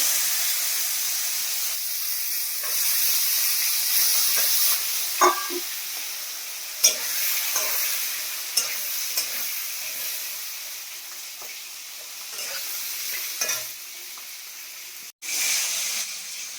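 Beans tipped into a hot frying pan in a home kitchen set off a continuous bright sizzle and hiss, with scattered clinks and stirring scrapes through it and a brief sharp knock near the end.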